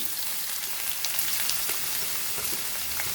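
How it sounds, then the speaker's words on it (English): Chopped onion fries in a tablespoon of oil with curry leaves and half a chili, a soft, steady sizzle and crackle at low volume with no voices. "So fry this onion nicely"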